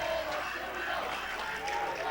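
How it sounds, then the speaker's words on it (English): Golden Bear fans make a busy, continuous din of chatter and shouts at a high school district championship baseball game, heard at a moderate distance in the crowd. "the Golden Bear fans, are getting into it. They're getting a little rowdy"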